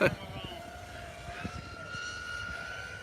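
An RC model jet screams past in a high-speed pass, a rising and falling whine with strong tonal pitch sweeps over a faint background rumble, heard at moderate distance with people talking nearby.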